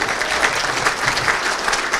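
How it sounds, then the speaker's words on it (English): An audience at the 2024 Hammond State of the City Address claps steadily and loudly, a dense wash of applause filling the room throughout. "I think that was Anastasia that started clapping first."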